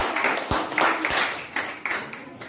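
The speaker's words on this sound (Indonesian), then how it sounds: "Sekali lagi tepuk tangan untuk kelompok." A small classroom audience claps for student group 3 after their presentation in a biology lesson on Mendel's laws, a short burst of scattered hand claps that rises and fades over a couple of seconds.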